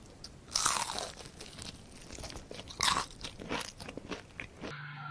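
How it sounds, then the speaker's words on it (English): Fried chicken is bitten and chewed close up, giving several crisp, crackling crunches at irregular intervals over quiet room background with no talk. "As you guys can hear, there's the crunching, glorious crunching sound."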